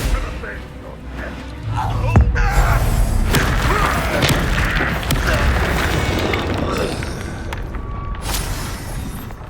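A Descendo spell slams a target down in Hogwarts Legacy with a loud, deep thud and crashing impact, surrounded by sustained rumbling combat noise.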